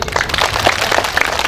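Audience clapping at an Islamic sermon, a fairly loud, dense patter of many hands that stays steady throughout.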